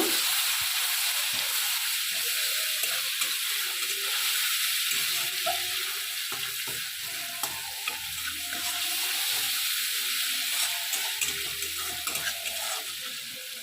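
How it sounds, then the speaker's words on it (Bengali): Garlic frying in oil in a pan for a prawn and cauliflower curry gives a steady, close sizzle with broad crackling hiss and small clicks of stirring, continuous for the whole stretch with no talking. "রসুনটা ভালো করে ভেজে নেব"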